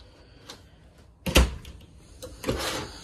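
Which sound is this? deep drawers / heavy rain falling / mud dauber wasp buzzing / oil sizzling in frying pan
deep drawers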